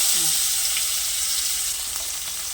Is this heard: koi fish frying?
yes